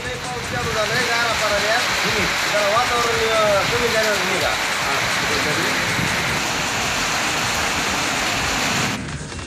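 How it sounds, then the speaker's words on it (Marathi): Heavy rain with hail pours down in Kej and Shirur talukas, a dense, loud, continuous hiss of drops striking surfaces, with voices audible over the downpour early on. "केज आणि शिरूर या तालुक्यांमध्ये गारपिटीसह मुसळधार पाऊस झाला"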